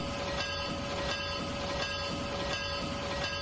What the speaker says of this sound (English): Let's hear the bell.